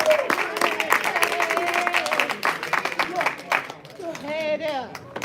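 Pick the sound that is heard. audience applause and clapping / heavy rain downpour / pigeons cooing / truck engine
audience applause and clapping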